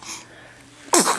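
A two-month-old baby lets out one short, sharp sneeze near the end, following quiet breathing and a faint earlier sniff.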